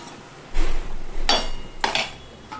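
A metal lid set back onto a cooking pot of drumstick vegetable dal on a gas stove, giving a few clanking, clinking knocks of metal on metal at close range, with no talking.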